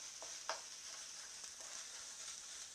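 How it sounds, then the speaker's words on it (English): Onions are tossed and fried in a wok, a soft, even sizzle with a couple of brief scraping clatters as they are moved around, quiet and without voices. "We're going to toss our onions around just for a little while to heat them up."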